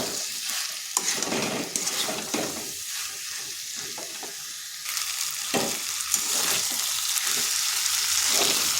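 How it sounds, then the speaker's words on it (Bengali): Fried potato and pumpkin pieces get stirred into spiced masala in a hot pan, giving a steady bright sizzle with repeated scraping, tossing strokes throughout. "এখানে দিয়ে দিচ্ছি আলু আর কুমড়োগুলো যেগুলো ভেজে রেখেছিলাম ভালোভাবে মশলার সাথে মিশিয়ে নিচ্ছি এগুলোকে"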